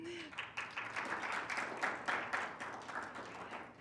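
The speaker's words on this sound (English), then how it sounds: "You feel so free to applaud" Applause from the audience at a department graduation ceremony, a dense, even wash of clapping heard from a moderate distance and lasting a few seconds.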